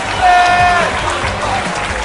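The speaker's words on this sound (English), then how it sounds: "a big round of applause to your runner-up, Tommy Kelly!" Applause for the runner-up at an MMA fight event, a loud, dense wash of clapping from a crowd that stays steady for a couple of seconds, with a faint whistle near the start.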